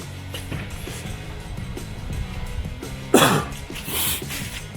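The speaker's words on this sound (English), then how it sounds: "I apologize for my sniffling and whatnot." Someone getting over a cold coughs once sharply, with sniffles and throat noises, amid a quiet garage-like background of car brake work.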